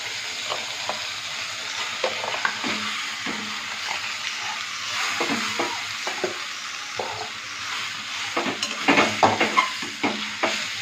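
Potatoes frying in a pan with chilli for a Schezwan noodle frankie, a steady sizzle broken by repeated scraping stirs that grow busier toward the end, with no talking.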